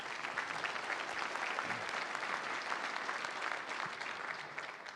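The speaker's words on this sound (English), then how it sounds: "A round of applause for Meredith Salo." Audience applause at a university panel discussion, a dense, even wash of clapping from a crowd that holds steady and fades slightly at the end.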